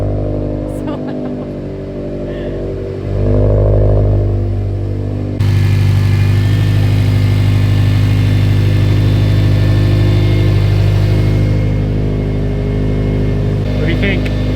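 A built Subaru STI engine idles with a loud aftermarket exhaust, a steady deep rumble that swells slightly partway through, while people talk nearby.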